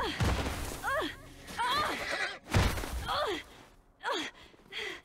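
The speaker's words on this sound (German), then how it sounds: "Arme Pferd." A horse in the video game The Last of Us gives several loud, distressed whinnies and snorts in separate bursts, with a short gasp-like breath between them.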